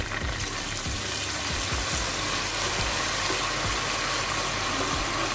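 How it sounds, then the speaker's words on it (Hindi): Sizzling as a little water is added to onions fried to light golden in a pan, a steady dense crackle and hiss held close and loud without a break. "तो अब हम इसमें थोड़ा सा पानी ऐड कर"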